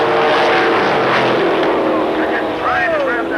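Trans Am race cars from 1982 roar past at Laguna Seca with a loud, continuous engine drone that rises and falls as they go by, while someone talks over it.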